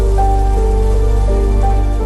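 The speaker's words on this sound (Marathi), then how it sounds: "पाऊस चालू आहे" Heavy rain pours steadily over an outdoor protest ground at Azad Maidan in Mumbai, a dense, even hiss that stays close and constant with no voices.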